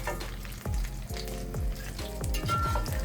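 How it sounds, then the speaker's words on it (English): Fish sizzling and frying in oil in a pan for Jamaican brown stew fish, a steady close crackle with sharp spits and pops throughout, no voices. "And then you just let it fry completely."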